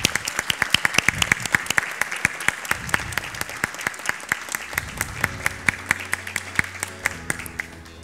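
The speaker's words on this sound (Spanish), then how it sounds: "Un aplauso." Audience applause at a kindergarten graduation ceremony, with sharp individual claps standing out close by over a steady wash of clapping that gradually thins, and a soft musical tone entering near the end.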